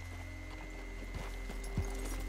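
Horse hooves clip-clop softly in Red Dead Redemption 2, a few faint, irregular hoof falls over a quiet steady game hum.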